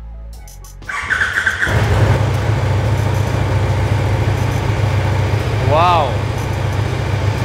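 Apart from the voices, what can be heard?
Brabus 1300 R car engine cold start, stock exhaust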